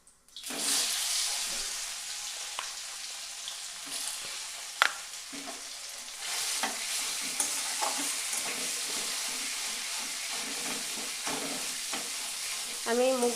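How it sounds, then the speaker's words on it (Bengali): Boiled moong dal and ginger are stirred in a frying pan, with a soft continuous sizzle and wet scraping and clinking of a spoon throughout. "আমি মুগ ডাল দিয়ে এবার ভালো করে একটু মিশিয়ে নেব।"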